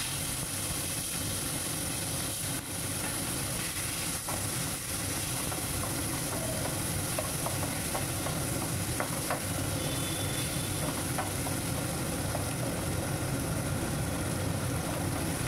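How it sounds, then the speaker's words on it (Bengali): Shrimp coated in salt and turmeric frying in oil with whole cumin seeds, giving a dense, continuous hiss and sizzle that holds steady throughout, with a faint low hum underneath and no speech. "এবং নুন হলুদ মাখা চিংড়ি মাছটা এবার ভাজতে দিয়ে দেব।"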